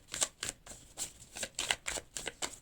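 Tarot cards are shuffled by hand in quick, rhythmic riffles, about a dozen crisp, close papery slaps in under three seconds, with no voice.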